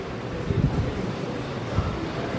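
A cold wind blows outdoors as rain approaches, making a steady low rumbling gust against the microphone with slight swells and no voices.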